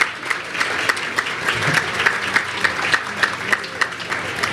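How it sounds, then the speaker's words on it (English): Audience applause for honorees at a school fundraising dinner, a steady round of clapping from a crowd in a hall, moderately loud with distinct individual claps standing out. "How about another round of applause for our honorees?"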